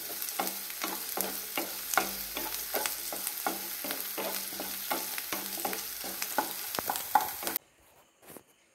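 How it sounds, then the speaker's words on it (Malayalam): Ginger sautéing in a small pan with a spatula scraping and stirring in a quick repeated rhythm over a soft sizzle, close and clear, with no voices. It stops abruptly near the end. "എന്തായാലും ഇത് നന്നായിട്ട് വഴറ്റിയെടുക്കണം."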